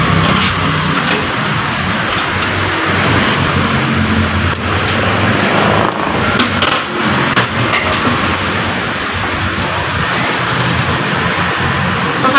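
A Mitsubishi L300 Euro 4 engine runs steadily up close with a worn alternator bearing, giving a continuous rough, scraping whir with faint intermittent ticks throughout.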